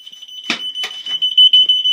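Bike lock alarm buzzer ringing with a steady, shrill high-pitched tone, close and loud, interrupted by a few clicks and brief handling noises.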